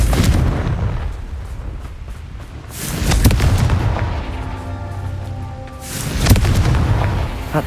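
Confringo fire spell explosions in Hogwarts Legacy: three heavy, booming blasts with crackling roar, spaced a few seconds apart, each swelling and fading alone over a low tonal hum.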